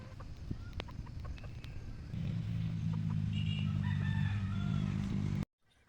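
Tethered gamefowl roosters crow repeatedly at a gamefowl farm amid background clucking and farmyard noise, several calls overlapping and fairly close, ending abruptly.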